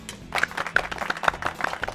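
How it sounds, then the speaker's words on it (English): Light, scattered clapping from a small group at a casual meal of rice and octopus, a string of uneven claps close by with no voices over them. "Can we please applause?"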